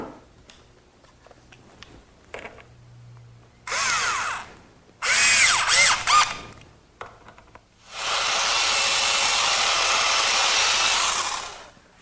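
Power drill driving screws into wooden cleats of a bedside table, several loud whirring bursts of varying length with a long sustained run near the end, close up with quiet pauses between.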